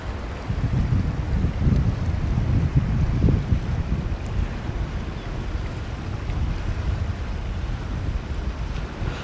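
Water washing in over a coastal rock platform on a wild Australian shoreline, a steady low surging rush of surf with wind buffeting the microphone, continuous and fairly loud with no talk.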